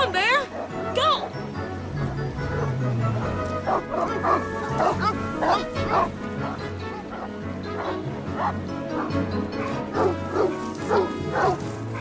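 Several dogs bark, yip and whimper repeatedly in rapid, excited bursts close by, with voices talking over and among the barking.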